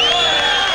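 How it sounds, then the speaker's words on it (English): Crowd at a wrestling event reacting with a loud, sustained mass of cheering and shouting voices, brief and continuous without gaps. "the crowd reacts to D'Amato"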